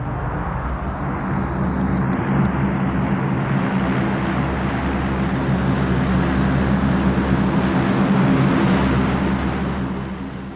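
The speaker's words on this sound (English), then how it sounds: "A tactical landing. The bulk of a Hercules brought to a halt in about 750 meters" A Hercules transport aircraft makes a tactical landing and brakes to a halt, a loud, steady propeller and engine roar that swells slightly and then eases near the end, with no talk over it.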